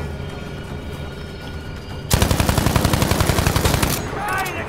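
Gunfire in the video game Battlefield 5, first muffled ambient sounds, then a sudden loud burst of rapid automatic shots hammering steadily for a couple of seconds before easing off.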